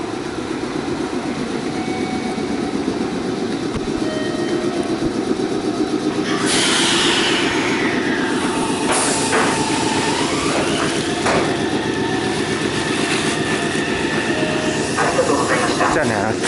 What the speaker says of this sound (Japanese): 電車参りました。